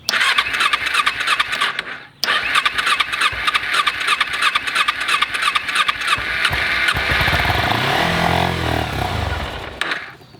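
A motorcycle with its choke on cranks with a whirring starter, pauses, then cranks again and catches into a steady running idle, loud and close with no speech.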